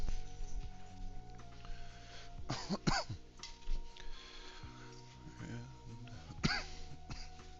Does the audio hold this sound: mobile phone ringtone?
no